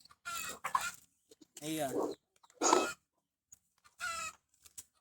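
Chickens cluck loudly and close during an outdoor Sunday church worship service, in several separate bursts of harsh, squawky calls, with a person's voice briefly heard among them.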